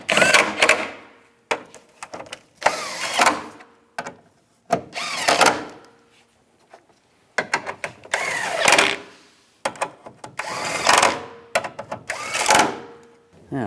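Screws being driven and tightened on a headlight assembly of a 2008–2017 Buick Enclave, heard as a series of short, loud whirring bursts separated by brief pauses, close by with no talking.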